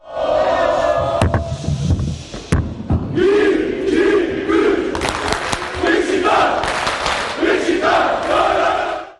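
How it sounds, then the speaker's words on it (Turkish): Beşiktaş supporters chant loudly in an indoor hall during an evening event in Malatya, a dense, roaring crowd of voices that stays sustained throughout, with occasional thumps cutting through. "Yer yer salonu tribüne çeviren kara kartallar tezahüratı da eksik etmediler."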